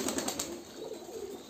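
Pigeons at a farm coo in a brief, soft, low burble while bathing in water, quiet and close.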